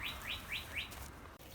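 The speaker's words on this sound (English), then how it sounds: "She heard the birds." Birds chirping outdoors in a quiet setting, four quick evenly spaced chirps close together over faint background hiss.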